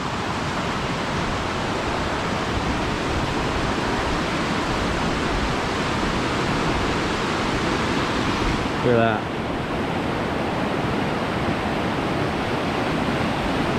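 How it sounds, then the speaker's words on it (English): A river swollen from the previous day's rain rushes steadily beneath a bridge in Vermont's Woodford State Park, a constant broadband roar of flowing water, with someone briefly speaking close by. "The river's running a little high from all the rain that we had yesterday"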